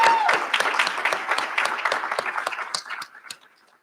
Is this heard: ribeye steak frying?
no